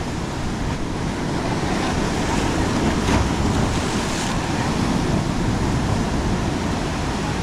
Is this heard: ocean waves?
yes